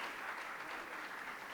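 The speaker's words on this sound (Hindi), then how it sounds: "कैफ भोपाली टीम जो है उनके लिए जोरदार तालियां बजाएं।" An audience at an Urdu poetry game event in Bhopal claps for the winning team, giving steady, dense applause at a moderate distance with no gaps.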